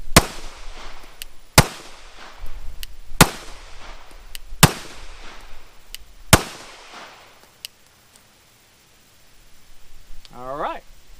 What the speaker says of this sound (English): On the command of fire, you will fire all 5 rounds into your target.